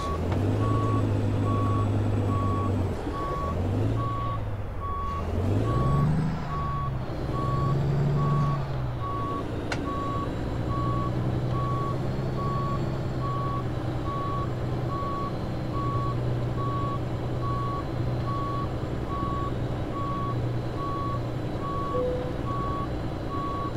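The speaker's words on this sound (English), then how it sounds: "Beep twice for safety. Low, reverse." A truck's reversing alarm in American Truck Simulator, on an International Prostar day cab, beeps in a steady repeating rhythm over a continuous low engine drone, loud and unbroken throughout.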